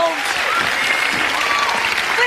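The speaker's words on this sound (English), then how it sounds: "Big round of applause for your judges, everybody." A TV studio audience at a talent show results broadcast applauds the judges, dense, loud clapping with cheers mixed in, sustained without a break.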